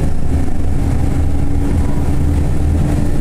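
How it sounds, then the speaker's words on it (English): A TransBunbury Route 845 bus runs at full highway speed after merging. The engine and road noise form a loud, steady, low rumble that does not let up, and no one talks. "We're gonna hear the future bus at full speed"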